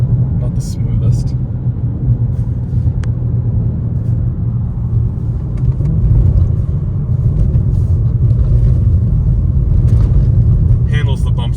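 A 2023 BMW M4 drives over a rough, damaged exit ramp, giving a steady, loud road and engine rumble with occasional thumps, under continuous talk.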